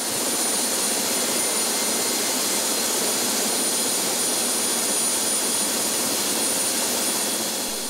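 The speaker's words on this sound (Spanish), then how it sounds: "El helicóptero al servicio del gobierno se habilitó como ambulancia aérea." A government helicopter in service as an air ambulance produces a loud, steady turbine roar with a constant high whine, running unbroken with no voices.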